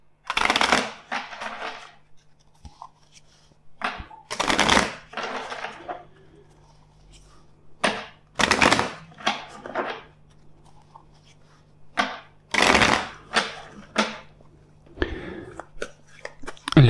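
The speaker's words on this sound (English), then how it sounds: "first let's shuffle the deck 4 times" A deck of tarot cards being shuffled by hand, close up, in four crisp riffling bursts with pauses between, each a sharp papery flutter over a faint steady hum.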